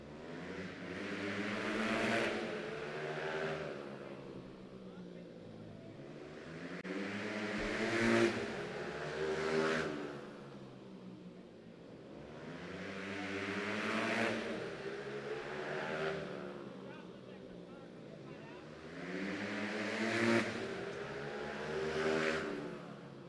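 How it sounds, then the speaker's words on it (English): 100cc racing motorcycles at a mini bike race roar past in repeated waves, each pass swelling loud and fading as engines rev up and down, with no talk over them. "it's 100cc motorcycle time"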